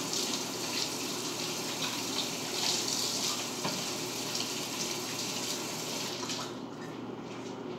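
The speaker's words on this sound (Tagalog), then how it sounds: "Hugasan ko muna yung kamay ko." Hands washed under a running kitchen or bathroom tap, a steady close gush of water splashing continuously for several seconds before easing slightly at the end.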